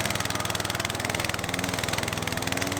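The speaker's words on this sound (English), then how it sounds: "you can really hear it struggling" A Toro TimeMaster lawn mower engine labours through longer grass, a steady, close, throbbing drone that runs without a break and with no voices over it.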